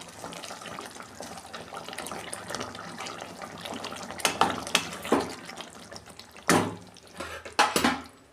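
Liquid pours while fish curry cooks, a running splash with louder gushes and clatters toward the end, close and alone.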